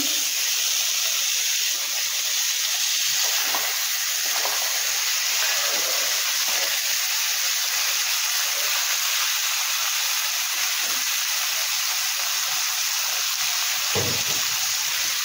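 Tomato dropped into a pan of fried onions while cooking Indian salmon with mustard-poppy paste, a loud steady hiss of sizzling oil continuing alone throughout, with a few faint clinks and a brief louder burst near the end.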